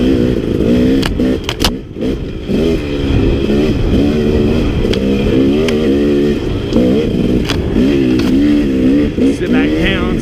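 A KTM 250 XC two-stroke dirt bike rides along a wooded trail, its engine buzzing and revving continuously up close with rapid throttle changes and occasional clatter, and a rider talks over it.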